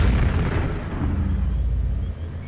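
A rocket fired into a machine in the game Quake, heard as a single loud, sustained boom and rumbling roar filling the whole moment before tailing off slightly at the end.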